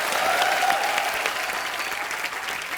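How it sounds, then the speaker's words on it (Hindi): Studio audience on The Kapil Sharma Show comedy show applauding actress Raveena: dense, loud clapping from a large crowd filling the whole stretch, with a faint voice trailing in the background. "आइए रवीना जी के लिए एक बार जोरदार तालियां।"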